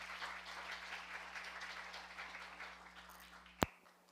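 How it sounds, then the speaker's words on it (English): Soft, steady applause from a symposium audience on molecular characterization of edible biodiversity, fading gradually toward the end, with one sharp loud click just before it closes. "We want to thank you, the Doctor, with a round of applause"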